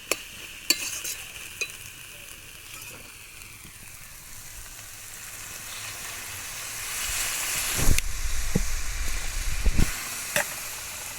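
Boiled banana flower being stirred in a frying pan, with steady sizzling throughout and scraping and stirring strokes that grow louder and busier near the end.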